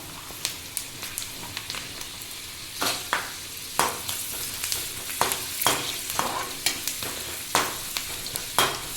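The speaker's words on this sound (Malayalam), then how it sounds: "അടുത്തതായി പുട്ടുകടല ഇട്ട് കൊടുക്കാം. ഇതും ഇതേപോലെ ഫ്രൈ ചെയ്തെടുക്കാം." Puttu kadala chickpeas frying in hot oil for a flattened-rice snack mixture, with a continuous sizzle and sharp crackling pops and stirring clatters throughout, up close and without speech.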